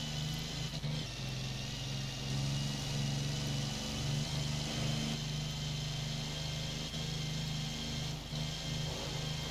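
The Napier Railton's 24-litre plane engine in Forza Horizon 4 gives a loud, steady droning roar. It holds a low, throbbing note with brief dips at gear changes and sustained revving between them.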